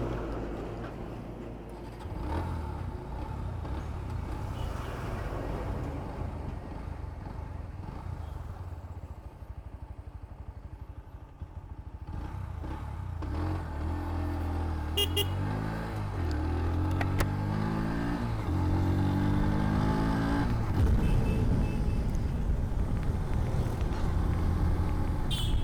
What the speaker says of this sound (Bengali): রাইড করতে করতে তারপর আমরা বুঝতে পারবো যে এই বাইকটা অ্যাকচুয়ালি চালিয়ে কেমন লাগলো আমার।